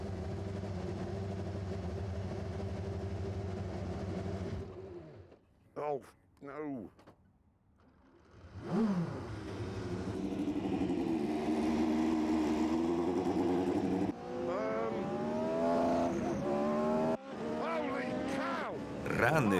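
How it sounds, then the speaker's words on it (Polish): A steady engine drone gives way to a brief quiet gap, then a high-revving Formula One car engine whines up and down in pitch. "Wkrótce byłem gotowy na swoją pierwszą przejażdżkę w bolidzie Formuły Pierwszej"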